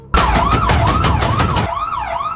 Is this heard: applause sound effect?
no